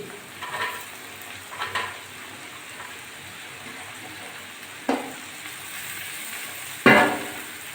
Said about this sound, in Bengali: এবার আমি কুচিয়ে ধুয়ে রাখা আলুগুলো দিয়ে দিচ্ছি